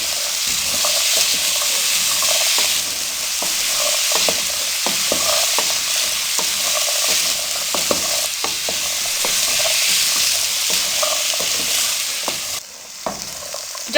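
Chickpeas coated in spices frying in a pan for chana chaat, a steady loud sizzle with repeated scraping stirs throughout, close and continuous, ending briefly quieter.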